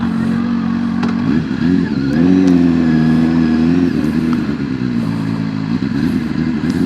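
A CFMOTO 750SR sportbike engine runs loud and close with a steady droning note that swells and eases slightly, as if lightly revved, with no pauses.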